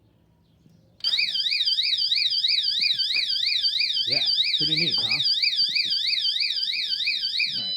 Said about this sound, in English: So when you move it, the alarm will start to go off.